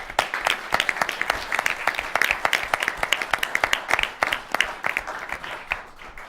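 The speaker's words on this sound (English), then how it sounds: "a round of applause for our judges." A seated audience at the Harold Pratt House gives a round of applause for the judges at the 2013 IPPF final debate, a sparse, steady clapping of many hands lasting several seconds, mid-distance and fairly even in loudness.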